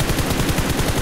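Rapid bursts of automatic gunfire from a video game, dense repeated shots filling the whole moment at steady loudness with no talk over them.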